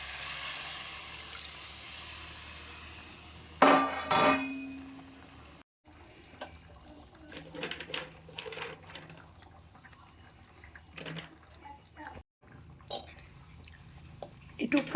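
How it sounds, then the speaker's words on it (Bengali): Liquid from a yogurt marinade is poured into a pan of hot oil for spiced pulao, bringing a burst of splashing sizzle, then softer bubbling, dripping and utensil clinks, close by. "এবার এইখানে যে টক দই মাখিয়ে ম্যারিনেট করেছিলাম না, এই জলটা এইটাই একটু দিয়ে দেবো।"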